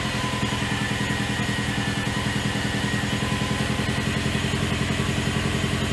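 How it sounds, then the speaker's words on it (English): A brand new Subaru WRX engine runs at a steady idle, its even pulsing rumble and light mechanical clatter close and continuous with no talk. "Brand new engine"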